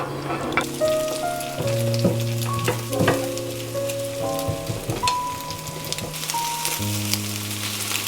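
Eggs being scrambled in a frying pan give off a dense, rain-like sizzle with light stirring, close and even. Melodic background music plays over the cooking noise, and no one speaks.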